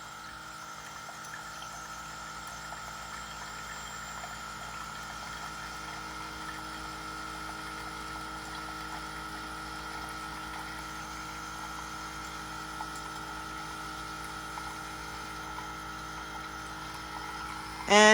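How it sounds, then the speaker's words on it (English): A Keurig K-Mini coffee maker brewing and pouring coffee makes a steady, even pump hum with a faint trickle underneath that runs continuously and ends with a sudden louder sound. "It's already pouring the coffee for me now."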